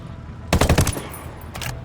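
A short burst of rapid automatic gunfire from the Ghost Recon video game, several quick shots in a row followed by a second, fainter burst a moment later.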